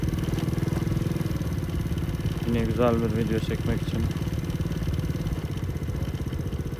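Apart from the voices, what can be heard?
motorcycle riding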